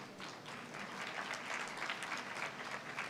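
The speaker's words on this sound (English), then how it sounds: "We need huge round of applause," A conference audience gives a steady round of applause, dense overlapping claps that sound faint and distant in a large hall.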